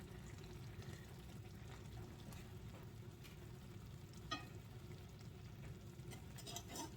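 A steak sizzles and simmers steadily in a pan, a quiet continuous crackle with occasional small pops and stirring sounds.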